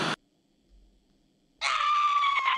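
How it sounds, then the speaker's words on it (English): A scream in the video game Amanda the Adventurer 2: a short loud shriek cuts off, then after a near-silent gap a second sustained, piercing high scream rings out loudly to the end. "Scream?"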